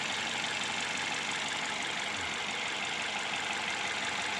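Toyota Altis with automatic transmission, engine running steadily at idle, a dense continuous rumble with a faint knocking texture throughout, close and even in level with no talk.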